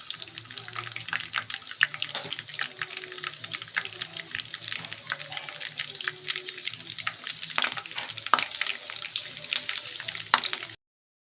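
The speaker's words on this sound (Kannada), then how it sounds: "ಈಗ ಕರಿಬೇವು ಹಾಕೊಳ್ತಾ ಇದ್ದೀನಿ," Curry leaves crackling in plenty of hot oil in a pan, a steady close sizzle with sharp pops and spatters throughout, with no talk.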